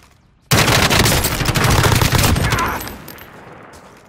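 Sustained automatic gunfire in the video game Warzone: a dense, loud burst of rapid shots erupts suddenly and rattles on for about two seconds, then fades to a lower crackle, with no talk.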